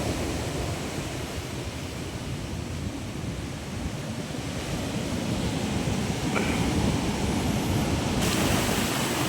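Sea water rushes hard into a beach hut, a dense, continuous roaring wash of surf that grows slightly louder toward the end, with no voices.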